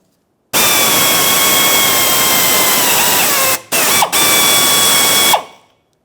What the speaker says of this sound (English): To drill this out, we'll be using a 1/4-inch drill bit.